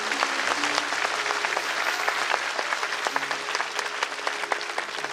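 Dense, steady applause from a large audience at a Hindu devotional discourse gathering, with rapid overlapping claps continuing evenly throughout, no talking.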